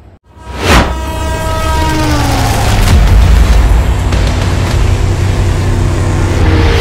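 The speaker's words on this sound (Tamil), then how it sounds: "இப்போ இந்த வண்டி பார்த்தீங்கன்னா செட்டுக்கு போய்கிட்டு இருக்குங்க" A locomotive pulls away toward the shed with a loud, close horn blast, then a heavy steady rumble and rising engine noise that continues to the end.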